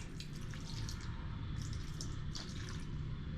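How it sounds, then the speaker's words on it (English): Vinegar splashes into a keto marinade as a steady, close liquid pour that runs the whole time over a low background hum. "So the vinegar, we're just going to make a little splash."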